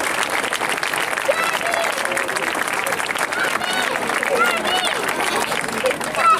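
Crowd applause at a Festa di San Giorgio horse race in Vieste, steady and dense throughout, with background crowd chatter mixed in.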